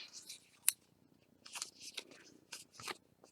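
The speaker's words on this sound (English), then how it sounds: "let me find my scissors here. Cut one off, and just put it right on there." Scissors snip a piece off for a deco foil craft, a series of close, crisp cutting sounds in irregular bursts with quiet rustling between.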